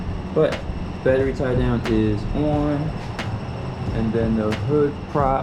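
A fan runs steadily in a hot garage during an IS300 engine swap, giving a constant airy whoosh beneath someone talking close to the microphone.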